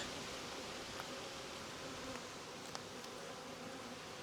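Steady, dense buzzing of many honeybees at an open hive during an inspection of a queenless colony in an apiary, continuous and close with no talk.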